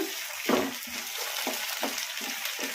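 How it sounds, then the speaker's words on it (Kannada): Tomatoes fry over medium flame with onions in a pan, a steady sizzle broken by repeated rhythmic scraping stirs of a spoon, close and clear, with no one talking. "ಟೊಮಾಟೊ ಚೆನ್ನಾಗಿ ಮೆತ್ತಗಾಗೋವರೆಗೂ ಫ್ರೈ ಮಾಡ್ಕೊಂಬಿಡೋಣ"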